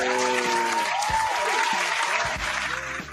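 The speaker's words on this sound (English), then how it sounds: "We like to give my boy a nice round of applause" Applause for a returning podcast guest, the Champagne Chef, fills the room in a steady loud burst with some voices mixed into the clapping.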